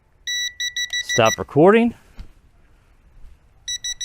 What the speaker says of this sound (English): the controller's still gonna beep at us. even though we've landed